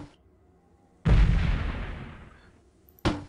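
A grenade blast in the Delta Force 2 game bursts out loudly and close, its rumble decaying over about two seconds before a second sharp explosion hits right at the end.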